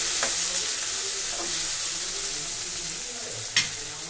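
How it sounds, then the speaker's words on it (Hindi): Browned onions sizzling in a pan with green chili, tomato and garlic, a steady close frying hiss broken by a few soft stirring scrapes and one sharper clink near the end. "अब हम इसमें डालेंगे हरी मिर्च, टमाटर और लहसुन। तीनों को एक साथ मिक्स करके डाल देंगे।"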